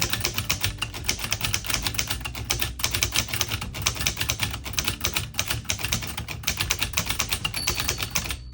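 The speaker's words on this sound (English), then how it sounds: "let me type a sentence, and when we get to the margin" Rapid, steady clacking of a 1925 Corona Four manual typewriter's keys struck one after another, close and loud, with no voices.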